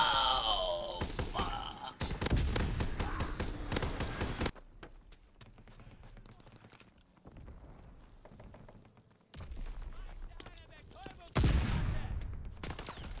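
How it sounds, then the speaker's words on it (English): Gunfire from the video game Call of Duty WW2 comes in bursts of loud shots and short rattling volleys, separated by quieter stretches, with a voice talking over parts of the action. "why would you shoot? Why would you shoot your gun?"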